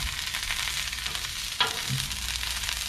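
Corn cobs sizzle steadily on a hot grill, a soft continuous crackle with one brief sharper tick partway through.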